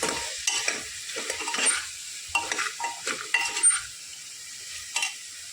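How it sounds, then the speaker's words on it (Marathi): A spoon stirs spices and freshly chopped coriander into paya soup simmering in a cooker, giving close, irregular scraping and clinking strokes against the pot over a soft sizzle, with no talking. "चांगले असं मिक्स करून घेणार आहोत"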